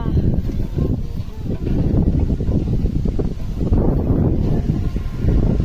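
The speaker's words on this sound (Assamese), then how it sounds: "আচৰিত ধৰণৰ বতাহ দিছে এইবিলাক" Strong wind blowing on a mountain road in Arunachal buffets the microphone with a loud, continuous low roar that surges and eases without a break.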